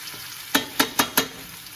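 Pork and fennel sausage stew cooking on low heat in a pan, four quick evenly spaced scraping or stirring knocks over a faint steady sizzle.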